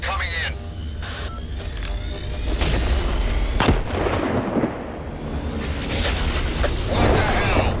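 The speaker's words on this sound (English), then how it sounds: "An explosion." An explosion booms in the S.T.A.L.K.E.R. 2 video game, with a loud blast and rumbling aftermath within a dense, noisy battle soundscape that stays heavy throughout, with a sharp impact near the middle.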